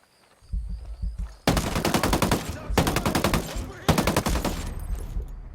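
Rapid automatic gunfire in the tactical shooter Ghost Recon Breakpoint: a short stuttering lead-in, then three long, loud sustained bursts separated by brief pauses, close and dense with no talk.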